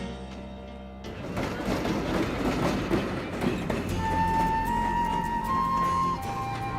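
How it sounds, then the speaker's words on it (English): A train pulls into a station, with rumbling wheels and rhythmic clatter building after a quiet start, then a sustained high squeal or horn-like tone over the steady rolling noise. "Train now arriving on track"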